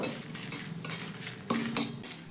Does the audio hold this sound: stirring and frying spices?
yes